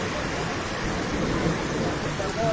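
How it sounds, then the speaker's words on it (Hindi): Heavy rain falls steadily in Jammu, a dense, even wash of noise with no breaks that holds at the same level from start to end. "बारिश जो है वो तेज़ होते हुए नजर आ रही है"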